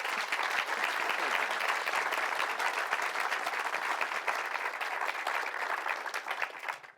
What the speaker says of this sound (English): I think we should give the debaters and ourselves another round of applause.